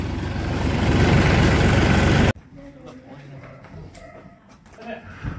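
A tractor engine runs loud and close with a steady low rumble, then cuts off abruptly, leaving a quieter village scene with faint movement and voices.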